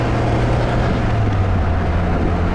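A 1962 Triumph TR4 motor drones steadily while driving, a constant, loud, low engine hum with a slowly shifting pitch and road noise, no voices.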